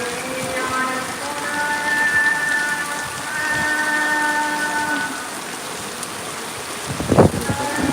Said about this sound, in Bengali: বৃষ্টি হোক প্রচণ্ড বৃষ্টি হচ্ছে